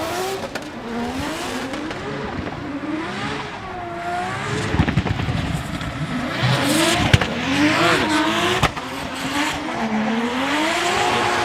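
Toyota GR86 drift car on track at Okayama International Circuit, engine revving hard and rising and falling through the slide, with tire squeal and bursts of skidding, loud and close throughout.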